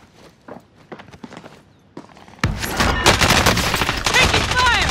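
Gunfire in the shooter game Call of Duty: Modern Warfare: scattered footstep-like taps and a couple of single shots, then a loud sustained burst of rapid automatic fire with ricochet whines.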